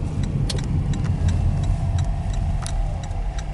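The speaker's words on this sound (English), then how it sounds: "There is a car coming." A car on Cayuga Road, a rural road near the ghost town of Edgar, heard as a steady low road rumble with faint ticking clicks on top, with no voices over it.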